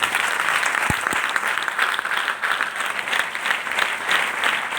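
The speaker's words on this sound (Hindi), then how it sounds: "तो हमारी सभी महिला एसोसिएट के लिए एक बार जोरदार ताली है।" A crowd claps loudly and continuously in honour of female associates at a company gathering in India, a dense, steady roar of applause with no voices over it.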